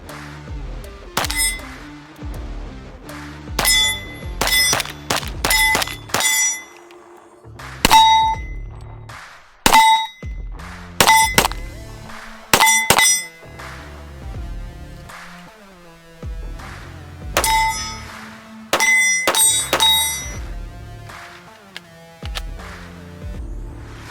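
Pistol shots, including 10 mm rounds, strike a steel target at long range outdoors, each sharp crack followed by a bright ringing clang; irregular bursts of hits come in quick clusters separated by short pauses.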